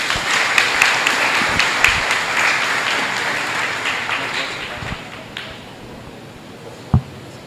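Congress audience applauds in a dense wash of clapping that gradually thins out, with a sharp knock near the end and speech around it.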